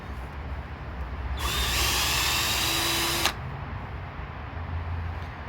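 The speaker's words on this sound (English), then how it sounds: "gonna use Scotch-Brite and a drill. I'm gonna stick the valve in my drill" A power drill spins a carbon-covered valve from a 2001 Honda Accord against a Scotch-Brite pad, a loud steady whine lasting about two seconds and stopping abruptly amid quiet surroundings.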